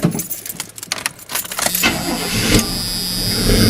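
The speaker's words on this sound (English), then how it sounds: "This one's been run recently, so she'll fire up pretty easy." An old Chevrolet Silverado pickup with a 350 engine and four-barrel carburetor, rusted with age, is started up. A jangle of keys leads into the engine cranking, then it settles into a steady, loud running rumble that fills the rest of the clip.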